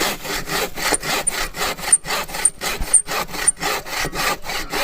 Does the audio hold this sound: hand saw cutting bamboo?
yes